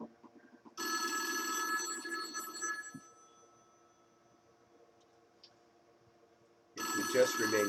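A telephone ringing with a bright electronic trill, one ring burst lasting about two seconds, then a long quiet gap before the ringing starts again, heard in a tabletop game session.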